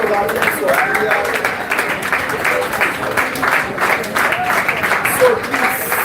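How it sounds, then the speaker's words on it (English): An audience claps continuously, a busy, even patter of many hands, with voices speaking over the applause. "A round of applause for Gilead."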